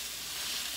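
A chicken parmesan cutlet sizzles in a pan as it browns, a steady close hiss of frying with no talk.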